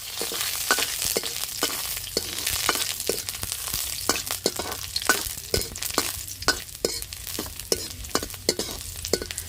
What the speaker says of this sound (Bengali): রসুনগুলো একটু আমি ভাজা ভাজা করে নিলাম